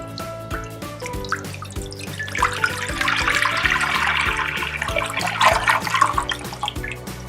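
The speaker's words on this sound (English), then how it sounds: "To boil pasta, add water in pot." Water runs and splashes steadily into a pot, the pour growing fuller and louder over several seconds, with steady background music underneath.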